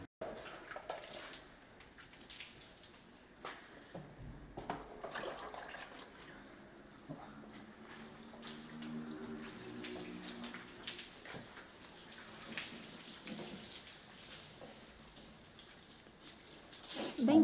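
Water is thrown from an ice cream tub onto a car during an outdoor wash, with irregular splashing and trickling runoff over the bodywork at a moderate distance; there is no talk.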